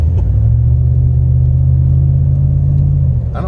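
Car engine running steadily after a SeaFoam fuel-system treatment, a loud continuous low rumble close by that holds steady for most of the stretch and eases near the end, with no one speaking.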